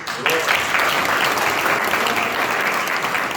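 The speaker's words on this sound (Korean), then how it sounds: "박수 한번" A crowd at a book concert breaks into loud, sustained applause that starts abruptly and holds as a dense, even wash of clapping without pause.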